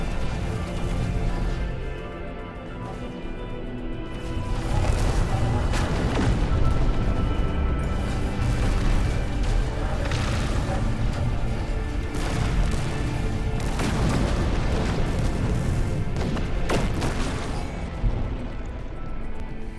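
Wraith starship weapons in No Man's Sky blast away at Sentinel interceptors in a dense, continuous barrage of booming shots and crashes, loud and steady throughout with no talking.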